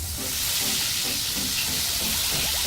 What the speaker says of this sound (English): We got bacon going on here.